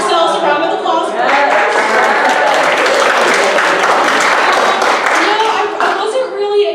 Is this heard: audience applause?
yes